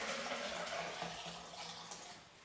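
Homemade sea moss drink is poured from a container into another over a kitchen sink, a steady liquid gurgle and splash that thins out toward the end.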